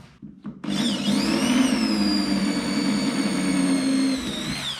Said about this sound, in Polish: wywiercę sobie tutaj jeszcze dwa otworki, tutaj dwa otworki